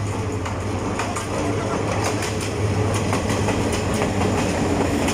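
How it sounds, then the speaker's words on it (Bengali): A train rumbles steadily through a station nearby, its wheels clattering over rail joints in a loud, continuous roar with faint talk beneath. "এখানে একটা রেল চলে আসছে, যেটা ডাইরেক্ট ট্রেন আর কি"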